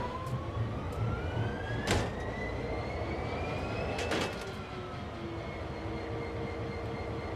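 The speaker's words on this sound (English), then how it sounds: "the train started" A train hauled by an EMD SD40-2 diesel locomotive begins moving, a steady mechanical rumble with rising whining tones and a couple of sharp clanks, moderately loud and without talk.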